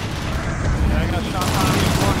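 Rapid gunfire in the Shadowrun video game, dense bursts of automatic shots layered over one another, with players talking over the shooting.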